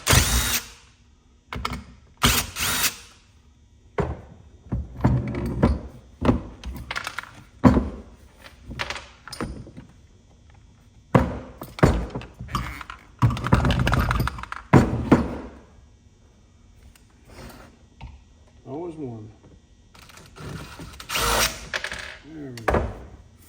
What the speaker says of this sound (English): all I really got to do is take the screws out of the tank handle